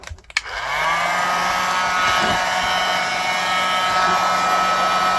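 A heat gun switches on with a click and then blows a loud, steady whir while gently warming a leather strop used for whittling knife sharpening, running alone without talk.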